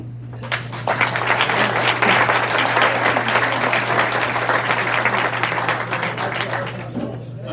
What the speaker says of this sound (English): I want you to give an arousing level of applause as we introduce Skeet